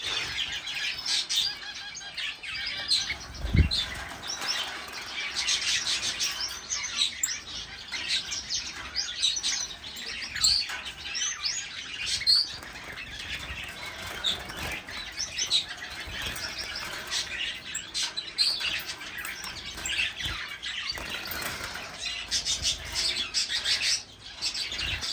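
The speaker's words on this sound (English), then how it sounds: "A lot of the shaft tails, some of the canaries, the fifes, and a pair of Irish fancy" Finches and canaries in an aviary, including shaft tails, fifes and Irish fancy canaries, keep up a steady chorus of high chirps and tweets with bursts of wing flapping close by, continuous throughout.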